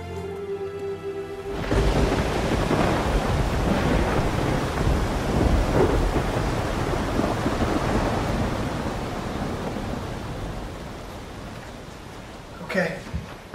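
A thunderstorm with rain roars as a dense, steady downpour after a sudden thunder crash, with a short knock near the end.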